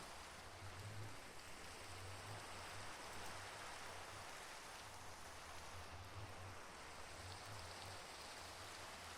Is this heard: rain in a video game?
yes